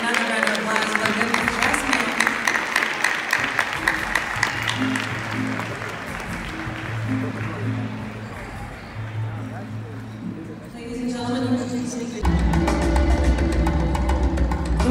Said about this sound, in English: Another round of applause for the